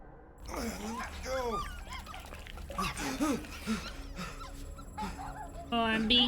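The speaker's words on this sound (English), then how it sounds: "Oh, I'm being licked by puppies." Puppies in Marvel's Guardians of the Galaxy video game yip, bark and whimper in bursts across the clip, mixed with game music and close voices talking over them.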